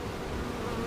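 Honey bees hum at the hive during a mid-June inspection, a close, dense and steady buzzing that fills the moment without pause.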